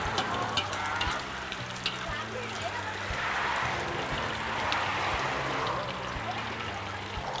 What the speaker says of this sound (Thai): ทอดให้กรอบเลยใช่แปลว่าทอดน้ำมันกำลังดีกลางๆ ไฟร้อนจัดๆไหมฮะ